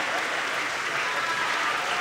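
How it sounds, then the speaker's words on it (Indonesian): Applause from an audience at a cultural evening performance, a dense, steady wash of many hands clapping throughout, fairly loud and unbroken. "Yo, tepuk tangan dah, Bobo."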